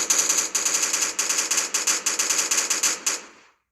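A gun from a Minecraft mod fires a rapid, evenly spaced burst of sharp, loud shots for about three seconds. The burst then stops abruptly and a short echo fades into silence.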